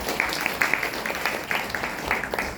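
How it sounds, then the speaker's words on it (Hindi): A small gathering claps for a seated person, soft scattered handclaps at moderate distance with low murmuring underneath. "ताली बजाओ इनकी"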